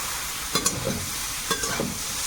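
Boiled soybeans sautéed with spices in a pan, a continuous close sizzle broken by two pairs of sharp spoon scrapes against the pan.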